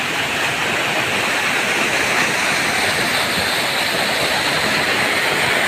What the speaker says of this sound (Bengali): দেখো তোমরা সবাই কীরকম বিশাল ঝর্ণার জল পড়ছে।